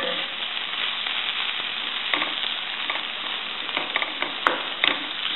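Brussels sprouts and zucchini sizzle steadily in a hot pan, a continuous frying hiss with a few brief clicks and scrapes of stirring.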